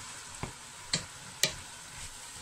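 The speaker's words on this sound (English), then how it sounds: "Just give it a stir. Medium heat, remember." Vegetables sizzling in a pan over medium heat, a steady frying hiss broken by three sharp clicks of the utensil as they are stirred, close and fairly quiet with no voices.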